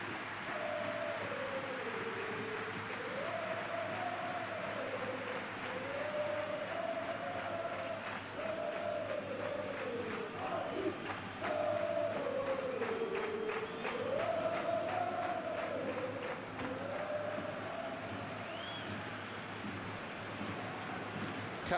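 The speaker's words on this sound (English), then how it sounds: "at least the crowd are appreciative of his efforts" Steady stadium crowd roar from a football video game match between Real Madrid and Manchester City, a continuous broad wash of noise with a wavering chant-like tone running through it, moderately loud and unbroken.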